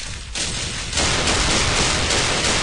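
Rapid gunfire from a Desert Eagle pistol in a first-person shooter against mutants, loud and dense, a brief quieter lead-in before sustained overlapping shots fill the rest without pause.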